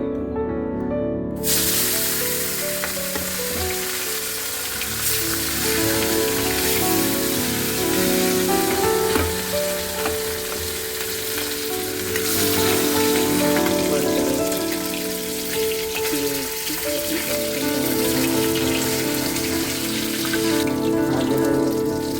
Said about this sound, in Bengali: কড়াইতে তেল দিয়ে, তেল থেকে ধোয়া হচ্ছে মাছগুলো দিয়ে।